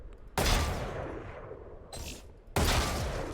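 Rapid gunfire bursts at training targets in the Valorant video game, three loud clusters of shots with short gaps between them, punchy and close with no voices.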